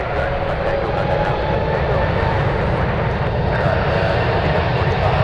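A United Boeing 777 on its takeoff roll for Paris as flight 990 at San Francisco, a steady loud engine roar holding broadband and even throughout, with a voice talking over it.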